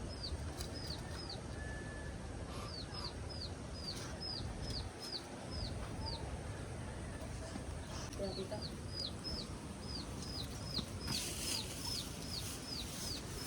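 Repeated high-pitched bird calls in short bursts over a steady outdoor background hum, with a few faint clucks among them.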